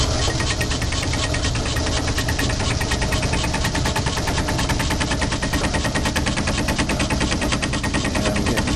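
A milling cutter on a Logan lathe milling attachment, with the work held in a makeshift vise, bangs in a fast, steady, loud chatter of repeated hits that runs without a break from start to finish, with no talking.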